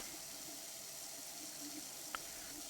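Water runs from a tap in the Prey video game, a faint, steady hiss of flow throughout with one brief click near the end.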